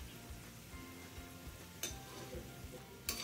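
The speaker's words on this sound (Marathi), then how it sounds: "आपल्याला छान गुलाबी रंगावरती या गुजिया तळून घ्यायच्या आहेत." Mawa gujiya frying in hot oil over a slow flame, a whole batch at once: a steady close sizzle and bubbling with occasional scrapes of a slotted spoon turning them.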